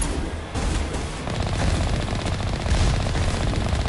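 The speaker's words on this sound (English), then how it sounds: "A Geth heavy turret." A Geth heavy turret in Mass Effect unleashes a dense, continuous stream of rapid automatic fire, loud and close, with no voice over it.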